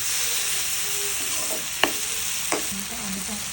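Vegetables and smoked fish (tinapa) being sautéed in a pan give a steady sizzling hiss throughout, with two sharp utensil clicks against the pan partway through; no voices.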